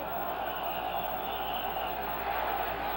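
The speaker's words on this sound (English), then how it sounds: "Now the crowd chanting." Spectators at a boxing match make a continuous, even roar that holds at the same level throughout, with no single voice standing out.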